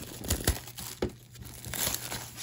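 Packaging crinkles and tears as a Meowscarada EX Pokémon card tin is opened, giving a few quick, close rustling crackles with sharp tearing accents, no voices.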